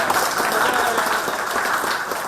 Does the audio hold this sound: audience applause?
yes